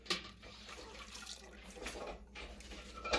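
Backyard orchard peaches dipped into a bowl of cold water for canning, giving soft sloshing and splashing with scattered drips, quiet and close, with no talk.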